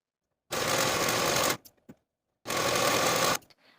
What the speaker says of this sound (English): I'm going to be using my serger.